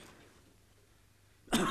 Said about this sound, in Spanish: Pero qué tos tenéis,